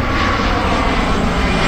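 A passenger airplane flies overhead near Gatwick, its steady, loud engine roar filling the whole stretch without a break and masking the rider's motorcycle.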